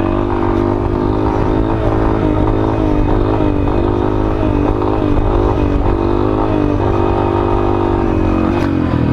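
Honda Fan or Bros 160 motorcycle engine revving hard and steady while the rider holds a wheelie, loud and close, with a continuous droning roar and slight rises in pitch throughout.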